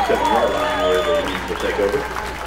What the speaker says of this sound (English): P&G fans on their feet applauding their defense